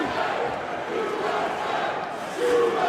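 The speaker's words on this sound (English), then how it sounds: "we got the USA chant" A packed crowd at a bare knuckle boxing event chants USA, a dense roaring mass of voices that swells near the end.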